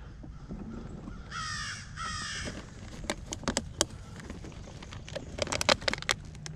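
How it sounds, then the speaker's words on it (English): A crow gives two loud, harsh caws in quick succession outdoors, followed by scattered clicks and crackles against a low background rumble. "Crow. I hate them things."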